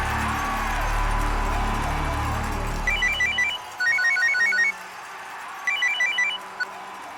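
A telephone rings during a call placed to Coach Dickinson: a busy background hum cuts out, then an electronic ringtone sounds in three bright, chirping bursts, fairly close and clear.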